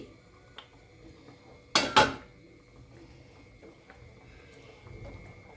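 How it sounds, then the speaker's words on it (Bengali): Two sharp metallic clanks, close together, as a lid is lifted off a wok of chicken butter masala after about ten minutes of cooking, followed by faint kitchen background noise. "কড়াইয়ে ঢাকনা খুলছি"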